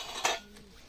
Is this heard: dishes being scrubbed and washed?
yes